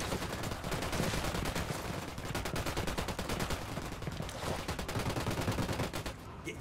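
Sustained gunfire rattles through a firefight in Ghost Recon Wildlands, long strings of rapid automatic bursts with brief gaps, loud and continuous, with a few faint voices underneath.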